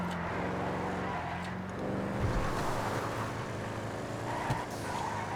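A Clique muscle car in GTA gives a close, continuous engine rumble with small rises in revs and brief tyre scuffs.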